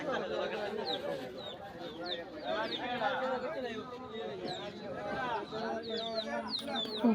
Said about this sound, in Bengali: ডাকের দিক দিয়েও পায়রাটা অনেক ভালো ডাকছে